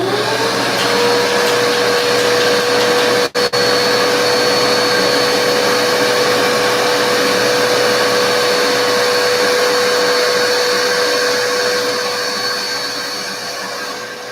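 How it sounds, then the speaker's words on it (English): A vacuum runs close and loud in a steady, unbroken drone, sucking up fumes while a countertop is tinted, with one brief dropout near the start and a slight fade toward the end. "I'm going to use a vacuum to kind of suck up a lot of the fumes."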